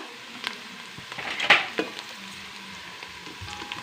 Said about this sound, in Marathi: टॅमॅटो टाकून घ्यायचा आहे टॅमॅटो चांगला आता परतलेला आहे